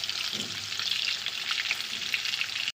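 Potato pieces frying in mustard oil with salt and turmeric give a steady, dense, close sizzling hiss that holds evenly throughout, with no voices.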